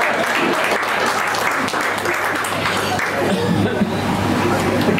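Audience at a poetry gathering breaking into dense, sustained applause, many hands clapping loudly and close for the whole stretch, with faint crowd murmur mixed in.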